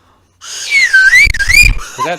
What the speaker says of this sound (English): Did you steal Sam's whistle?